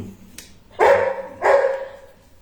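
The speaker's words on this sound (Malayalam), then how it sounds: "എന്റെ നായ്ക്കുട്ടി ബഹളം വയ്ക്കുന്നുണ്ട്." A puppy barks twice in quick succession, close and fairly loud, with a faint click beforehand and no talking.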